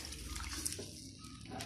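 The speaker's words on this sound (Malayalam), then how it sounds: "അവസാനം കുറച്ച് പരിപ്പിൻ്റെ വെള്ളം ഒഴിക്കാം." Lentil cooking water poured into a pot of tomato rasam flavoured with kudampuli, a soft continuous liquid pour at close range lasting under two seconds, with no talking.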